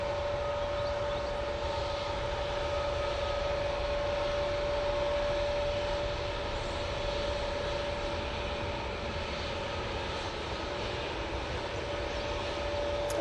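A Lufthansa Airbus A321neo airliner departs Manchester Airport, its engines giving a loud, steady roar with a sustained whine that holds for the whole stretch, with no voices over it.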